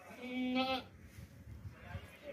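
A young two-tooth desi male goat with long ears, offered for Qurbani sacrifice, gives one loud, close bleat, followed by quieter background noise and faint murmuring.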